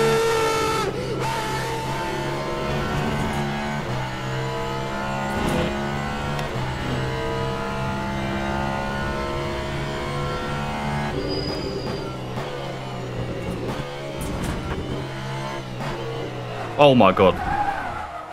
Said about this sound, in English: this car is an absolute mess under braking and downshifting